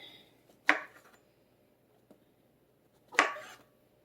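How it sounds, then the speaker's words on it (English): Two separate knife chops through washed mushrooms on a cutting board, sharp close thuds about two and a half seconds apart, with a faint tap between and quiet room background, no talking. "I just finished washing my mushrooms, and now I'm going to go ahead and chop those up."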